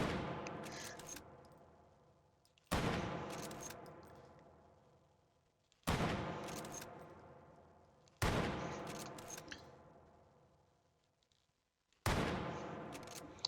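A Mosin Nagant bolt-action rifle fires single shots in H3VR. There are five loud, sharp reports spaced a few seconds apart, and each one rings out in a long decaying echo. No one talks.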